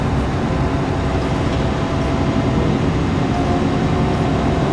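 A large excavator in Farming Simulator 22 digs out a waterway, its engine giving a loud, constant heavy rumble that stays dense and unbroken throughout.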